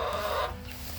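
Backyard chickens in an urban food forest give a short burst of close clucking over a low, steady background hum.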